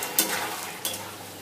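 Mutton being stir-fried with spices in a pan: a soft continuous sizzle with two brief scraping stirs, close and fairly quiet.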